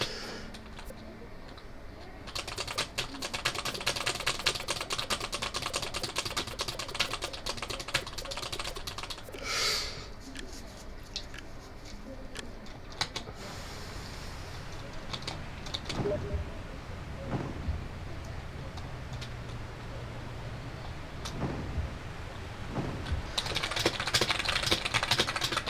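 Computer keyboard typing in a game session, a steady run of quiet clustered key taps at close range with brief louder bursts, continuing across the whole stretch with no talking.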